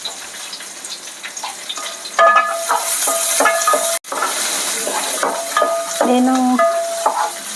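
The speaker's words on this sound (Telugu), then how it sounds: "ఇప్పుడైతే 2 మీడియం సైజు ఆనియన్స్ తీసుకొని ఇలా కట్ చేసుకొని వేసుకోవాలి. పచ్చిమిర్చి కూడా వేసుకోవాలి." Chopped onions and green chillies fry in a pan for Telangana-style bagara rice, giving a loud, continuous sizzle with scraping stirs and metallic clinks of a spoon against the pan throughout.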